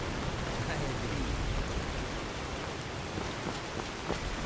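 Steady rain falling in the Skyrim video game, a dense continuous hiss with scattered drop patters and faint background voices murmuring underneath.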